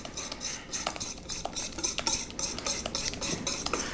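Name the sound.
whisking melted butter for pecan pie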